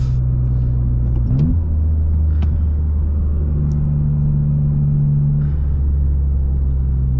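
A 2024 Toyota GR Corolla on lowering springs rumbles along under steady engine drone, with a couple of distinct shifts in engine pitch as it downshifts and the revs step up, heard from inside the cabin.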